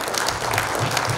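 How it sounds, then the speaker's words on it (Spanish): A congregation at a Catholic community vigil claps for the children, a dense, loud burst of applause filling the whole short moment with a few voices mixed in. "brindemos fuertes aplausos a todos los niños"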